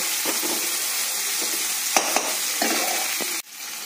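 Oil sizzles steadily as onions fry in a pan, with a few scraping stirs and clinks partway through, no voices.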